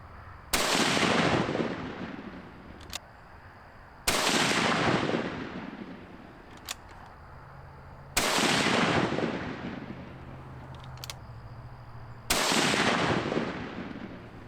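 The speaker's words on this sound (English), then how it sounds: "So even through the hearing protection with the muzzle brake on that rifle, it still makes your ears ring" Rifle fitted with a muzzle brake fired outdoors while hunting: four loud, sharp shots about four seconds apart, each followed by a long rolling echo that fades before the next.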